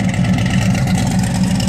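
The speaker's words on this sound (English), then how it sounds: "That's your cutout exhaust." A 1971 Camaro with its exhaust cutouts open, a loud, rumbling engine running steadily at close range with a deep low throb.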